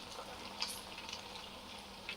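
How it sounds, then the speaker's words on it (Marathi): Upvas-style medu vada sizzling in hot oil in a kadhai, a faint, steady frying hiss with small crackles throughout and no voices. "इथे आपलं तेल गरम झालेलं आहे, तेलामध्ये टाकूया आपण हे."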